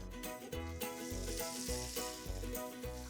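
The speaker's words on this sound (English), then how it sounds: "So till these tomatoes are getting fried" Tomatoes frying in a pan for a vegetable dish give a steady, close sizzle that runs beneath prominent tonal background music with a repeating rhythmic pulse.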